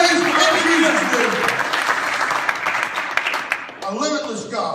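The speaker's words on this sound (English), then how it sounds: "Give him a hand clap of praise in Jesus' name" A church congregation claps hands in praise, a dense, sustained wash of applause that fades slightly, then swells again near the end, with voices mingled in.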